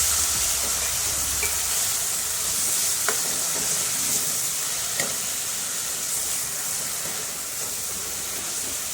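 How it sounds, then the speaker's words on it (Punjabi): Onions frying in oil with cumin seeds for stuffed bitter gourd, a steady broadband sizzle throughout with a couple of sharp scrapes of stirring, close and fairly loud, no voices. "ਪਿਆਜ਼ਾਂ ਨੂੰ ਆਪਾਂ 2 ਮਿੰਟ ਵਾਸਤੇ ਭੁੰਨ ਲਵਾਂਗੇ"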